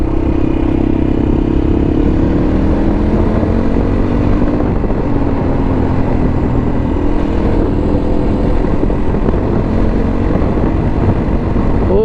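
A motorcycle rides along a road, its engine a loud, steady, close drone with constant road rumble throughout and no talk.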